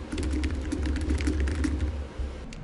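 Rapid keystrokes on a computer keyboard while entering a repair concern, a steady run of close, crisp clicks over a low background hum.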